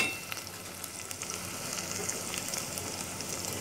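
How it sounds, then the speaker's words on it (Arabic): Finely diced small onion sautés lightly in a pan for an okra and meat stew, giving a steady, soft sizzle with faint stirring scrapes, close and continuous with no talk. "ببصلاية صغيرة مقطعها مكعبات صغيرة بالشكل ده كده، وهقلب. هدي تشويحة بسيطة يا بنات"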